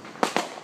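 Neighborhood fireworks on July 4th night: two fairly faint muffled bangs in quick succession from a distance, then a third sharp pop right at the end, over quiet background hiss.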